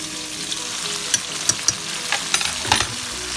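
Minced garlic sizzling in hot oil with browned eggplant in a pan, a steady close hiss and crackle with a few sharp spits and pops, no voices.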